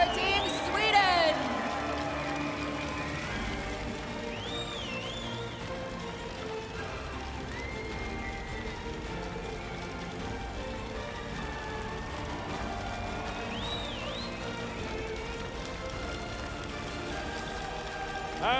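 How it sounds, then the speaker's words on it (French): A hall audience at the 2015 Coupe du Monde de la Pâtisserie applauds Team Sweden with sustained, even clapping like steady rain, under an announcer's voice and some music. "Je vais vous demander d'applaudir l'équipe de Suède"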